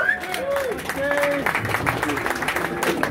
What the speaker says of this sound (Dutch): Graag een applaus voor Martin Reitsma